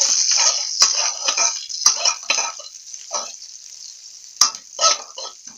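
Shallots frying in a hot pan for Thai-style fried rice vermicelli, a steady bright sizzle broken by repeated scraping stir strokes and a couple of sharp clicks, close and loud with no talk.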